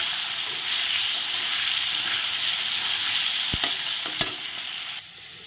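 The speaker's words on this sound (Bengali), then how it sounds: "এখন দেখো আলুগুলো তো একদম সুন্দর লাল লাল করে ভেজে নিলাম" Potatoes fry in oil, giving a dense, even sizzle close by for about five seconds, with a couple of sharp utensil knocks near the end before the sound drops off.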